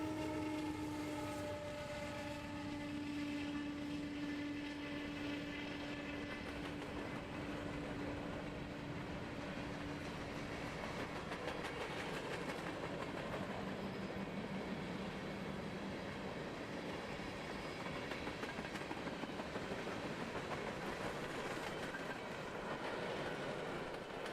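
A speeding Norfolk Southern freight train passes on the mainline in Kentucky, with a horn blast at first, then a long steady roar of cars rushing by close and loud.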